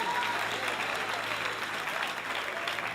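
Church congregation applauding together at a worship service, a steady dense wash of clapping held evenly for the whole stretch with no pauses.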